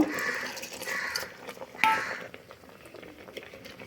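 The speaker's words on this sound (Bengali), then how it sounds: "আমি মসুর ডাল, পুঁই শাক আর কুমড়ো সেদ্ধ হতে দেব।" Lentils, Malabar spinach and pumpkin simmering in a pot with a soft bubbling hiss, plus one sharp clink of a utensil partway through.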